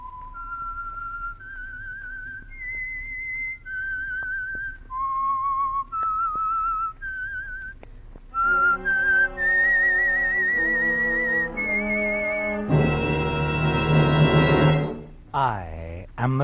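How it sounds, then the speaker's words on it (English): A distinctive whistled melody, the signature tune of the Signal Oil radio drama The Whistler, sounds alone in a series of clear sustained notes. An orchestral swell then joins and rises to a loud chord. "the signal to listen for is this whistle that identifies the Signal Oil program"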